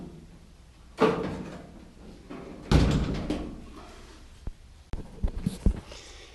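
A Chevrolet C10 truck door fitted to a 1973-1975 K5 square-body Blazer is swung shut several times, giving a few sharp thuds and latch clunks with quieter handling noises in between, close and without talk.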